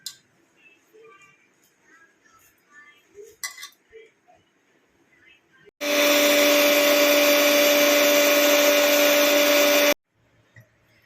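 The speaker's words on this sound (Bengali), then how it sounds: "আমি সমস্ত উপকরণগুলোকে একসঙ্গে মিক্সিতে পেস্ট করে নেবো" A mixer grinder runs loud and steady for about four seconds, blending salt, chilli powder and turmeric into a spice paste for sea crab pickle, with a sharp start and stop after quieter kitchen clinks.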